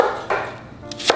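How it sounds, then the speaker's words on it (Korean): Quick knife chops finely cut apple on a cutting board, a few sharp taps spaced unevenly, close and fairly quiet with no talking. "잘게 썰어 주시면 됩니다."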